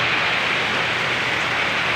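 Heavy rain pours steadily during a flood, a dense unbroken hiss close by with no voices or other sounds breaking through.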